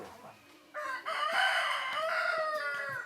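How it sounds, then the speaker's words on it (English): Roosters crow at dawn in a village in northeast India, one long cock-a-doodle-doo rising clearly above a quiet background, fairly close and moderately loud. "A chorus of roosters greets the new day."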